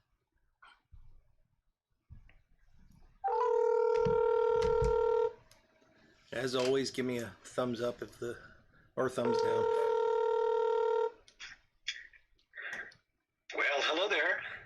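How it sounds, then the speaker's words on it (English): A telephone call being placed: two long bursts of electronic ringing tones separated by someone talking, with further speech between and after and a brief tone near the end. "So let's see if we can call him up on the phone here."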